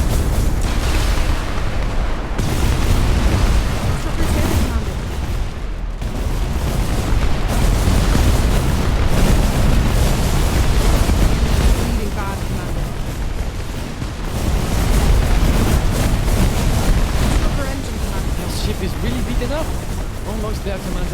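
Heavy incoming cannon fire in the airship battle game Airship: Kingdoms Adrift sets off loud booming explosions that roll into a constant dense rumble, with a voice talking over the barrage.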